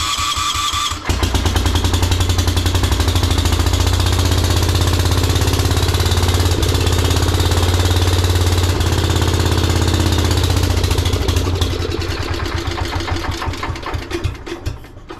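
1973 Wheel Horse tractor engine cranking and catching, then running loud and close with a rapid steady chug before tapering slightly near the end.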